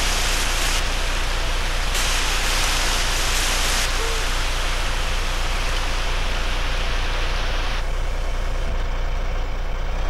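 A fire truck's water cannon sprays in GTA San Andreas, giving a loud, continuous hiss like a heavy rush of water. The tone shifts slightly as the spray changes, and an engine drones underneath.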